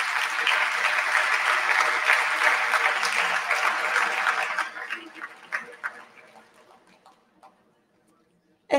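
An audience at a humanities event gives a warm round of applause for the professors, dense clapping for several seconds that thins out into scattered claps and fades away.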